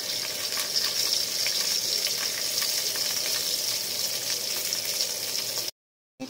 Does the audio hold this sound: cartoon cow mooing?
no